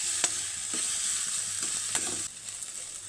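Food sautéing in a pan for upma, a steady hiss and sizzle with a few sharp stirring scrapes, close and continuous with no talk.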